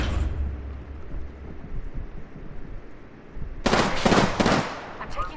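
Gunfire in Apex Legends, with a brief loud volley of rapid shots bursting out after a quieter stretch of muffled game noise.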